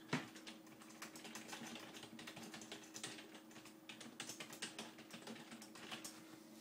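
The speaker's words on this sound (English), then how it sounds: "I'm going to type a quick message." Fast, continuous clicking of keys on a computer keyboard while a short message is typed, close but fairly quiet, in bursts of quick taps with brief pauses and no talking.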